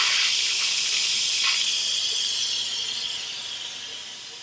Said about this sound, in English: I was supposed to push this little button here and watch the steam come up.